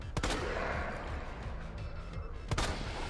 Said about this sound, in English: Got him to stumble with that animation and shotgunned him in the face